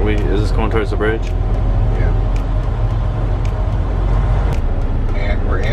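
New York City road traffic heard from inside a vehicle: a steady engine and road rumble with passing cars, and people talking over it.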